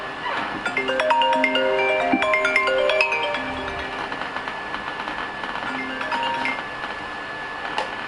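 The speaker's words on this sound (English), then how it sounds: "my boss is ringing me" Mobile phone ringtone as a boss calls, a bright melodic electronic tune of repeated tonal notes, fairly clear at first and then quieter, with some ticking clicks mixed in.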